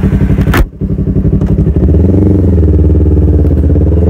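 A Yamaha R3 sport motorcycle rides at close range, its engine loud and buzzing with a brief dip as it shifts, then settling into a steady, throaty drone.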